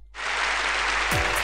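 Dense crowd applause in a video game performance scene, loud and steady after a quick swell, with a brief falling tone near the end.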